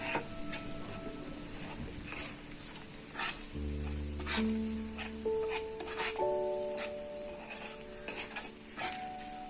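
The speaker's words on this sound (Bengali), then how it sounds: "বেশ কিছুক্ষণ আমি নাড়তে থাকবো" Food with whisked yogurt is stirred in a frying pan for Hyderabadi paneer, with a soft sizzle under repeated spatula scrapes and clinks of metal against the pan, close and fairly quiet.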